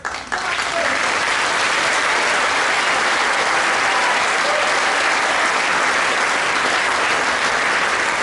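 Loud, dense audience applause at a jazz anniversary show, honouring a percussionist, rising quickly and holding as a sustained roar of many clapping hands, close and filling.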